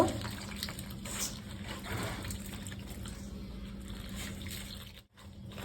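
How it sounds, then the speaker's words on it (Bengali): Water is poured little by little into rice flour dough mixed with sugar and salt, a soft, faint trickle and splash that runs steadily and then briefly stops near the end. "হালকা করে একটু একটু করে জল দিয়ে এটাকে মাখব"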